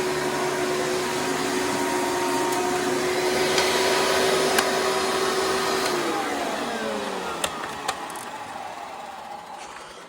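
A Hoover upright vacuum cleaner running with its hose come off, a loud steady motor whine that drops in pitch as it winds down, with a few clicks near the end.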